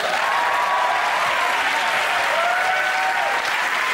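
A studio audience on a British comedy panel show applauds loudly and steadily, a dense wash of clapping that holds for about four seconds, with a few whoops rising above it.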